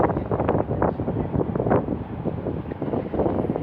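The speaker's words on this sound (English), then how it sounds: "Windy, very windy." Strong wind by a river at low tide buffets the microphone in a continuous low roar with gusty surges, loud and steady throughout, with no voices.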